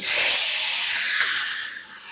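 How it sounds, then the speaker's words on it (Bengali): Shrimp dropped into hot oil in a home kitchen hiss and sizzle loudly at first, then ease into a steady, softer frying crackle with no voices. "এই তেলে এবার আমি চিংড়িটা ছেড়ে দেবো চিংড়িগুলো এই তেলে ছেড়ে দেবো"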